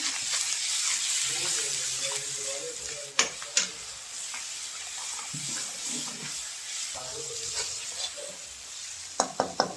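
Ground red chili powder and spices fry in a kadhai while being stirred, giving a continuous sizzle under scraping strokes, with a few sharp utensil clanks near the end.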